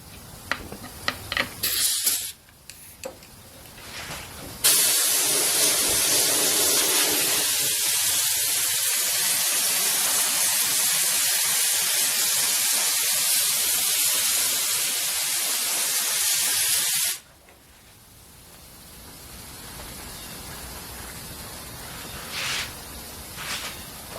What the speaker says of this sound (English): set you guys up so I can go ahead and spray